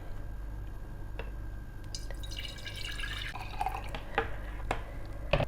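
Garlic juice is poured into a clean glass jar, heard as soft trickling and scattered drips over a low background hum, faint and close.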